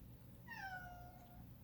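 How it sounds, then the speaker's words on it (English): A pet cat gives a single clear meow, falling in pitch and lasting about a second, fairly faint against a quiet room background. "That's our kitty."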